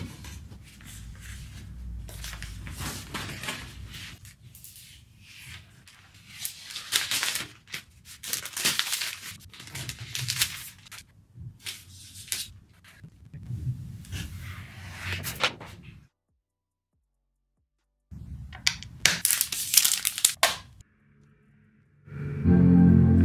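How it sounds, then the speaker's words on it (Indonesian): Crinkling and tearing of packaging as an Apple M1 iMac (2021) is unwrapped, with close rustling, crumpling and scratching bursts, a brief pause, then more rustling and a loud final rumble. "Lanjut kita pretelin pembungkus si iMac-nya itu."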